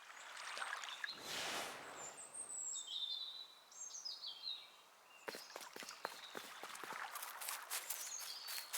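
Birds chirping in The Last Campfire video game: thin high tweets and short trilled calls over quiet footstep-like taps and soft rustling, faint overall with no speech.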